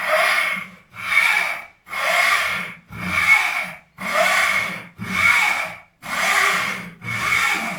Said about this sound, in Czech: vidíme, že pila řeže rychle